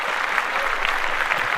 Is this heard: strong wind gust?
no